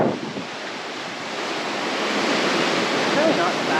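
Strong wind roars across the open deck of the cruise ship Enchantment of the Seas under way at sea, with a continuous hiss of wind and waves that swells slightly toward the end.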